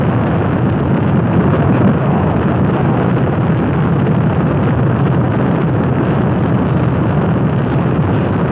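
An Apollo rocket engine ignites and roars through launch in a dense, loud, unbroken wall of rumbling noise that holds steady from start to finish, with no voices.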